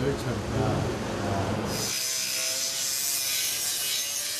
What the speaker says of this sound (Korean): 솥에 연결된 배관을 매끄럽게 하기 위해 꼼꼼하게 그라인더 작업을 진행하고 있습니다.